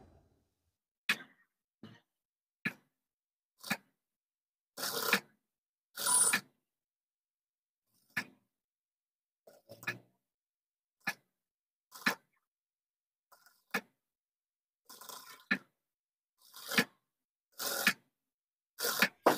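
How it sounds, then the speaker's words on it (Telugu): Home sewing machine stitching saree border piping onto a blouse, heard as short separate whirring bursts of stitching with silent pauses between them, close and clear with no talk. "నాకు ఎక్కడ అడ్జస్ట్మెంట్ అవుతుంది చూసుకొని అటువైపు నుంచి కుట్టేస్తున్నాను"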